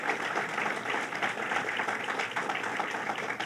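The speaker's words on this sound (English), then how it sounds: "Let's give her a round of applause." A crowd at a political rally for reproductive rights in New Hyde Park applauds with a dense, even wash of clapping that holds steady at moderate volume from start to finish.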